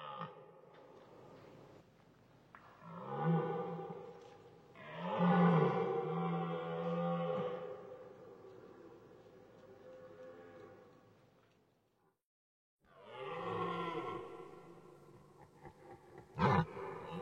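A red deer stag bellows during the rut on the Aubrac plateau. Several long, deep, hoarse roars at moderate distance are separated by a quiet pause, ending with a sharp closer groan.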